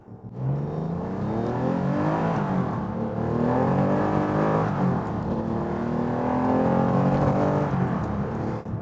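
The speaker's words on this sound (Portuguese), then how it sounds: "Vamos fazer uma última puxada nas marchas antes de eu te dar minha conclusão." A TVR Sagaris sports car pulls hard through the gears, its engine note rising continuously and loudly with brief dips at each shift, up close with no talking.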